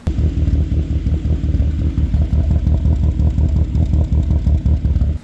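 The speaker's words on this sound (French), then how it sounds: "dès que le ralenti retombait, j'entendais des petits ratés réguliers" A Saab 9000 CSE engine idles with small regular misfires, a steady loud low rumble with an uneven, pulsing clatter running through it.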